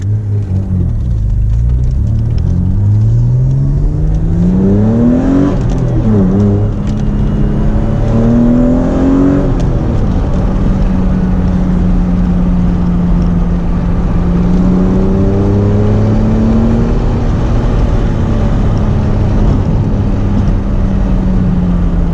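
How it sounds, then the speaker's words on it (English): A V6 engine in an MR2 revs up and down in rising and falling sweeps on a mountain road, loud and close, settling into a steady deep drone with a constant low rumble underneath. "that raw V6 sound that I'm hearing"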